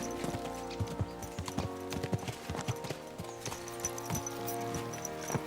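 Horse hooves clip-clop in a steady gallop rhythm while riding through Kingdom Come Deliverance II, with several horses' hoofbeats overlapping up close against a busy game soundscape.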